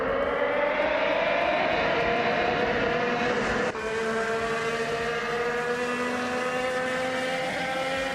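2018 Chevrolet IndyCars racing at Talladega make a loud sustained engine whine that climbs in pitch, then jumps and settles into a new droning tone as the cars pass.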